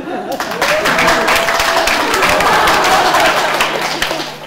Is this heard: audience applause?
yes